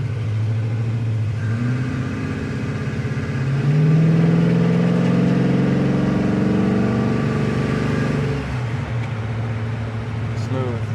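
A 1954 Oldsmobile Super 88 engine idling: a steady low rumble that swells briefly as if blipped, then settles back to a smooth idle, with people talking over it throughout.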